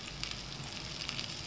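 Garlic frying in a pan for beef salpicao, a steady soft sizzle with crackling running evenly throughout, no talking.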